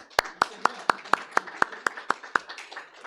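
Applause breaks out during a church service in Annecy, heard as about a dozen crisp, evenly spaced claps in a steady rhythm, close and fairly light, with no talking.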